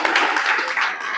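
Audience applause at a talk, a dense, steady wash of clapping hands that fills the moment loudly and evenly throughout.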